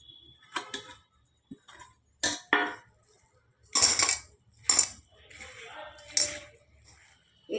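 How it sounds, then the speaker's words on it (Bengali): Fried onions dropping into a pot of jackfruit korma, heard as a few sharp clinks and taps of a utensil against the vessel, spaced irregularly over quiet. "এবারে আমি বেরেস্তাগুলো দিয়ে দিলাম।"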